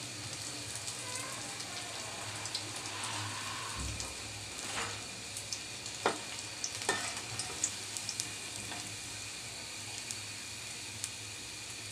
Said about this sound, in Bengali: এইভাবে করে ব্রাউন কালার করে ভেজে নিচ্ছি।